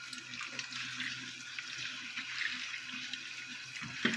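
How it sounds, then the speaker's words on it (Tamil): Running tap water splashes steadily into a sink as apples are washed, a continuous close hiss with faint clinks and no talking. "ஆப்பிள் கழுவி எடுத்து வச்சிடலாம்."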